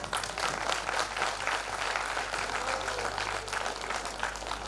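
A crowd at a Shrimad Bhagwat Katha religious gathering applauds, dense steady clapping that fills the hall throughout with no break.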